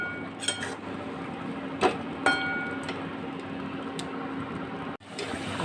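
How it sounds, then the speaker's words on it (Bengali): Fish curry with potato and pointed gourd being sautéed in a pan, a low steady sizzle with a few clinks and scrapes of a utensil against the pan, close by while someone talks. "আলু পটল দিয়ে এটা একটু ভালো করে কষে নেব।"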